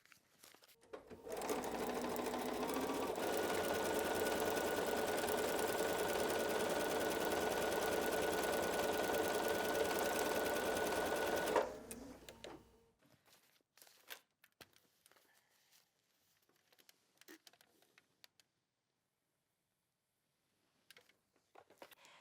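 One long, loud, steady run of a sewing machine stitching a foundation paper pieced quilt block, lasting about ten seconds up close, then quiet paper and fabric handling rustles.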